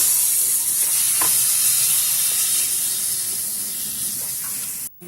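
Chopped tomatoes being stirred into a spiced cashew masala in a hot pan, giving a steady sizzling hiss with a few soft scrapes of the spoon, close and continuous, briefly cut off near the end.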